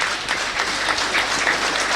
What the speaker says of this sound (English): There's the crowd here in the 8th minute, breaking out into a minute's applause here at Boston United.